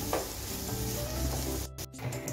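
Carrots for payesh fry in a pan while being stirred. A close, continuous sizzle is broken by scraping strokes and a brief pause near the end, with no voices.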